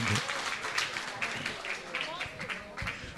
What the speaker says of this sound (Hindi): तालियों के योगदान देकर मैं सम्मान कर दीजिए